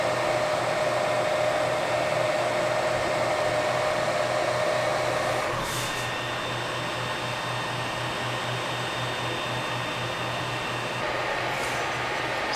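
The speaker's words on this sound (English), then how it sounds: "this is the Ender 3 V2 at standby" An Ender 3 V2 3D printer idles on standby, its power supply fan giving a steady, close whirring hum with a faint high whine that shifts slightly midway, continuous and unaccompanied by talk.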